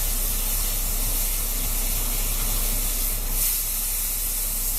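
A steak searing in a hot skillet gives off a steady, loud broadband sizzle and hiss that stays continuous for the whole stretch, with no talking.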